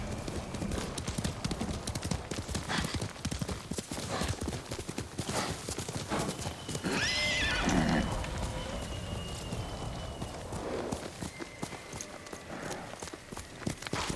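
Sora, a horse in Ghost of Tsushima, gallops with rapid, steady hoofbeats over rough ground, loud and close, with a neigh partway through and voices talking over the ride.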